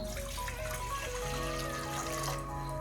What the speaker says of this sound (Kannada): ಸೊ ಈಗ ಇದಕ್ಕೆ ನೀರು ಹಾಕೊಳ್ಳೋಣ